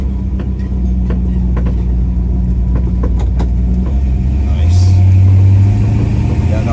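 A 1966 Chevrolet Impala engine rumbles steadily as the car drives, with a low drone that shifts up in pitch partway through as the transmission changes gear, loud and close.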